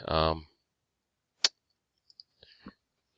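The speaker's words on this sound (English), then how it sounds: "just keep clicking." A computer mouse clicks a few times, sparse, sharp and close, after a short stretch of speech, with quiet gaps between the separate clicks.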